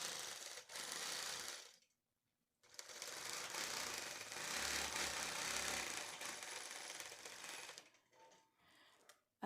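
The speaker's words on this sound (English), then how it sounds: "I'm going to stitch this down." A long arm quilting machine stitching through a quilt, giving a steady, rapid mechanical whirring and chattering that runs in two stretches separated by a brief pause, close and fairly quiet, with no voices.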